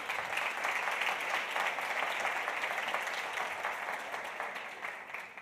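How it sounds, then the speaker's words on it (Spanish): Steady audience applause at a tech leadership panel in Argentina after an artist is introduced, dense clapping sustained throughout and fading slightly at the end, no voices. "Un aplauso para él."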